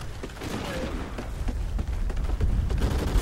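Repeated gunfire in Call of Duty Ghosts, rapid shots thudding in a steady cluster at moderate loudness over a low rumbling game background.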